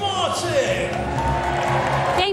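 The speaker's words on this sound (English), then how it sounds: "you got the biggest cheer of the night" An audience at an awards ceremony cheers and applauds loudly, a continuous crowd roar with whoops, mixed with speech.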